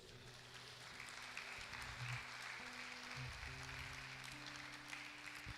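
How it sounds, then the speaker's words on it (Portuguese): Soft, distant applause rises from a congregation during a Portuguese-language sermon, a diffuse patter of many hands sustained evenly at low level throughout. "Você pode aplaudir ao Senhor por isso?"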